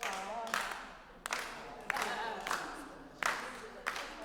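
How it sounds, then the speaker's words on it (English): A choir in rehearsal claps a rhythm together, sharp group claps landing in bursts with short gaps between them and voices mixed in the room. "let's see if we can add the clapping in"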